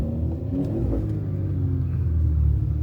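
A big-turbo, catless BMW M340i with traction control off revs in sport mode during a 2,500 to 4,000 RPM pull. Its deep, steady engine drone climbs gradually and sounds close and loud, with no talking.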